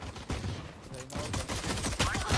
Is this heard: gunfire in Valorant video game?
yes